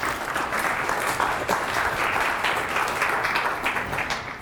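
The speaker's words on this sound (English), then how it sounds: "So please give a warm round of applause for Sanjeev." An audience at a tech conference talk on serverless stream processing welcomes a speaker with a warm, steady burst of crowd applause that holds at an even level for several seconds.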